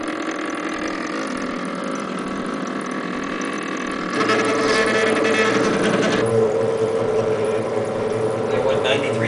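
A CNC mill making a plunge cut while machining a knife blank, a steady loud machine whine with cutting noise that rises sharply partway through and stays dense and harsh to the end.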